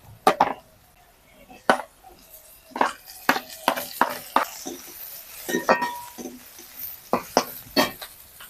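Chopped cabbage stir-fried in a pan with carrot and capsicum, with a spatula scraping and clinking against the pan in quick, irregular strokes separated by short quiet gaps.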